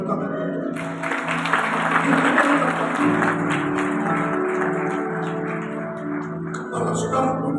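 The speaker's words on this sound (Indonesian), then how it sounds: "Boleh tepuk tangan." Sustained applause from a church congregation during a Sunday sermon, broad clapping noise throughout, mixed with music or tonal sounds underneath, steady and fairly loud.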